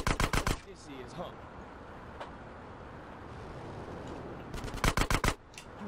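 Gunfire in the video game GTA San Andreas, set in Las Venturas: two loud bursts of rapid automatic shots, one at the very start and another near the end, with quieter game ambience between.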